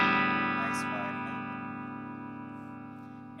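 Electric guitar played through an EarthQuaker Devices Sunn O))) Life pedal set to Rat-style distortion with the filter turned left, a single sustained distorted chord ringing out and slowly decaying.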